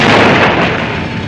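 A loud, dense explosion blast from a 1970s or 1980s science-fiction film, a sustained rumbling roar that fills the moment and slowly tapers off, with no voices.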